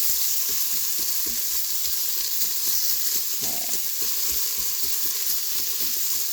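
Onions sauté in an Instant Pot with a constant close sizzle, punctuated by a steady series of soft scraping strokes as they are stirred; no voices.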